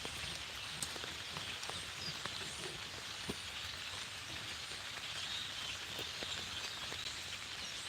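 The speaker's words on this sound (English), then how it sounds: "Comes the dang rain again." Steady rain falls outdoors beside a fish-filleting table, a dense even hiss of drops pattering on surfaces with occasional sharper drips and faint birdsong in the background, no voices.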